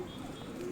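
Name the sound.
pigeon cooing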